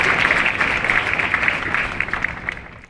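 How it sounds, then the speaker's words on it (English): An audience applauds veterans at a Space Force basic military training graduation, a loud, dense wave of clapping that holds steady and then begins to thin and fade toward the end. "How about another round of applause for the veterans?"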